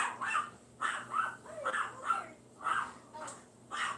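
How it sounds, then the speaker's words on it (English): A dog barks repeatedly at close range, about seven sharp barks in an uneven rhythm with brief whimpering notes between them. "He sounds ferocious. What are you doing, doggy?"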